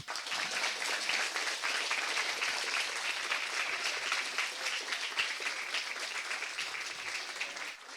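Steady, dense applause from an audience at a youth conference, many hands clapping together at an even level for the whole stretch without a break.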